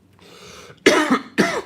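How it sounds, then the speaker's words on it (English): Two sharp, loud coughs close by, following a quieter breathy stretch, with a short gap between them. "I don't know why I'm coughing like crazy"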